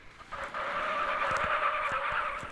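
A powerful video game car skids in a sustained, loud tire squeal over the engine's drone, holding steady for a couple of seconds with no talking.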